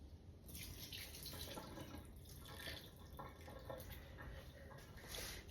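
Cooked mushroom pieces being drained, liquid pouring and splashing steadily into a sink for several seconds, a continuous close watery rush with small drips, no talk over it.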